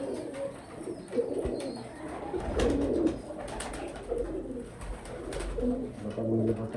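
Bankay pigeons coo repeatedly in a low, throaty rhythm over a steady murmur of background noise, several birds calling close by in overlapping bursts.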